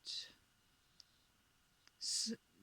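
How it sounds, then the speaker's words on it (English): Scissors cut paper straight across for paper bead cones, giving two short, soft, hissy snips separated by a couple of faint clicks in an otherwise quiet, close setting with no talk. "I just cut it straight across like this"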